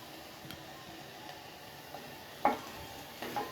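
Finely chopped garlic sautés in melted butter in a pan for okra soup, giving a soft, steady sizzle with a sharp utensil clink midway and light stirring scrapes near the end.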